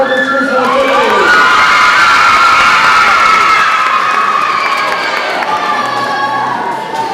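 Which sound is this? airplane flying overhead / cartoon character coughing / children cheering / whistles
children cheering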